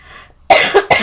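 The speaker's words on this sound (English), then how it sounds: "Oh, don't make me cough." A person coughs close to the microphone indoors, with two sharp loud bursts after a short quiet pause.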